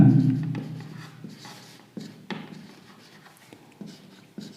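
Marker or chalk on a classroom board during a maths lesson, a series of short scratchy strokes and taps with pauses between them, fairly close with a soft low hum at the start.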